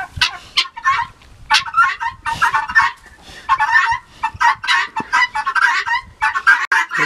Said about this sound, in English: The guineas are singing her a song.